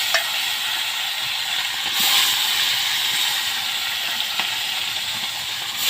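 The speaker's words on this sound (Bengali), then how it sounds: "দেখো আমি মাছটা ভেজে নিচ্ছি" Fish rubbed with salt and turmeric frying in hot oil in a pan, making a bright continuous hissing sizzle that stays loud and steady throughout, close up, with faint utensil ticks and no speech.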